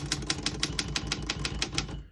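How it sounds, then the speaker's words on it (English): A 1937 Royal KMM vintage desktop typewriter being typed on, a quick, even run of crisp key strikes close up, ending with a brief fade. "We're gonna keep it on single for now and finish typing."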